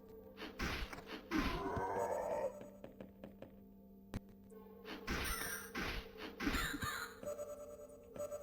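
Crows caw in bursts in the video game House of Necrosis, a few loud rasping calls early and another cluster later, with a thud in between and a low ambient game hum beneath.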